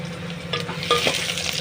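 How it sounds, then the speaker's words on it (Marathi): Onion and bay leaf fry in hot oil for a tempering, a close, steady sizzle with a few soft stirring knocks over a low background hum, and no talking. "त्यामध्ये तेजपत्ता व कांदा घालूया फोडणीसाठी"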